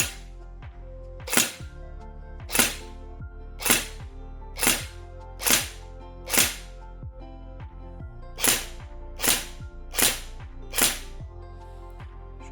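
An airsoft replica gun fires about twelve sharp, loud single shots on semi-auto at a steady pace, each a crisp snap, with a short gap midway and no talk.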